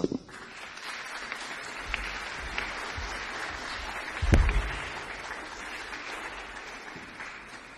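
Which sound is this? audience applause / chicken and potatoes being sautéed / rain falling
audience applause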